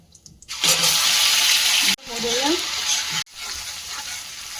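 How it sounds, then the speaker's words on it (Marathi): Cumin seeds and curry leaves hit hot oil in a pan, bursting into a loud, broad sizzle that cuts out briefly twice and resumes, steady and close. "जिरा छान झाला की हा थोडासा कढीपत्ता टाकूया"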